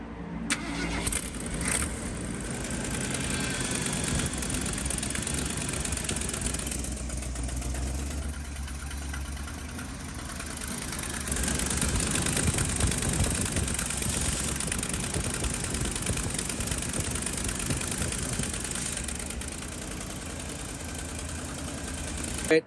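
A 1974 Ford F350 dually with leaking exhaust cranks, starts and settles into a rough, loud idle, the engine running steadily close by with a rise in revs midway.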